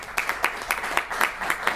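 A thin round of audience applause, scattered claps pattering fairly evenly for a couple of seconds, moderately loud with no talking.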